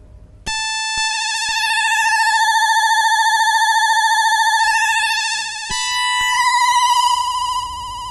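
Pocket Operator PO-28 Robot synth playing bright, buzzy sustained tones with a few abrupt pitch changes, loud and close, with no talking.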